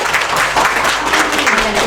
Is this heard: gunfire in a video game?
no